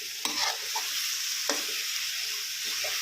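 Boiled, softened pork cartilage stir-fried in a pan for a Thai dry curry, a spatula scraping and clacking against the metal in a few sharp strokes over a constant sizzle.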